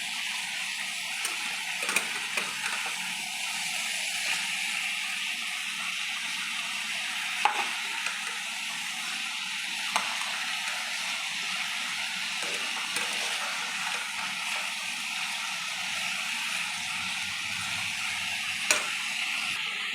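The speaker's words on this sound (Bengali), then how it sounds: "আমি বেগুনগুলো সব এক একটা করে উল্টে নেবো এক পিস করে ভাজা হয়ে গেলে আর একটু উল্টে নেবো" Eggplant pieces fry in a pan of hot oil, a steady broadband sizzle running throughout with a few brief clicks and scrapes as pieces are turned, fairly close and moderate in level, with no talking.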